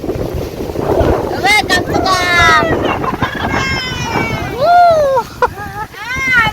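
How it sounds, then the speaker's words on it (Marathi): Gusty wind and rain buffet the microphone with a low rumbling roar while people talk loudly over it at a creekside gathering. "वारा बघा कसला आलेला आहे."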